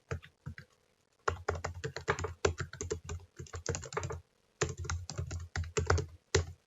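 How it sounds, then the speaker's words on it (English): A URL is typed on a computer keyboard in rapid close bursts of key clicks, with short pauses between runs and no voice. "I'm going to go ahead and type this one in."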